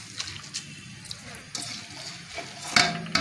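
Two glasses of water are poured into a pot of watermelon rind pulp in a home kitchen, giving a soft splashing trickle with a few brief spatters, close and alone.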